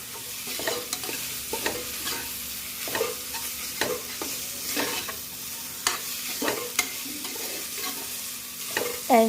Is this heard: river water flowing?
no